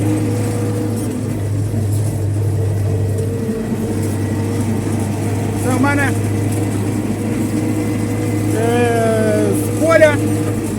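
A vehicle drives along with a steady low engine drone while hauling harvested soybeans on a trailer; the hum stays constant throughout, with faint squeaks or chirps near the end.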